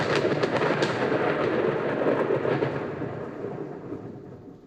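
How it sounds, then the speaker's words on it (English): Rain and thunder sound effects roll as a dense, loud rumbling wash with steady rainfall, sustained throughout and slowly easing toward the end, with no voices. "it's called rain, and yes, I've recorded some sound effects"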